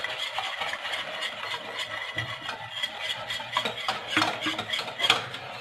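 Cold milk being stirred into choux pastry dough in a bowl, a steady scraping and sloshing of utensil against the bowl with quiet wet mixing sounds, no voices.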